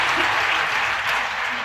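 A hall audience at a spiritual discourse claps in dense, sustained applause, loud and even throughout.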